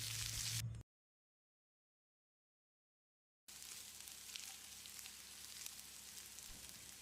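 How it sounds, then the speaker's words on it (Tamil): Sliced large onions, about 200 grams, sauté in a pan for Chettinad chicken, giving a steady close sizzle and crackle that cuts out briefly into silence before the frying resumes. "வெங்காயம் செவக்கிற அளவுக்கு வதக்கிடலாம்."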